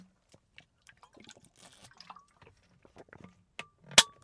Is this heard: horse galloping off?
no